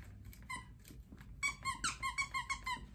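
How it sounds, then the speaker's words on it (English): A squeaky dog chew toy is squeezed repeatedly, giving a quick run of sharp, close squeaks in an uneven rhythm with no talking. "Squeeze me, oh it squeaks."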